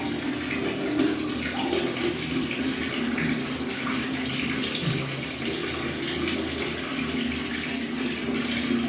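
Water pours and splashes steadily during a bath, a continuous close rushing wash with slight shifts in splashing and no voices.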